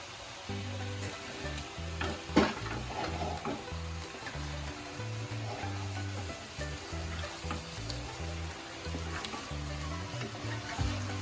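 Masala for a chicken fry biriyani sizzles steadily in a pan, with a dense, continuous frying crackle and occasional stirring scrapes, close and fairly loud throughout.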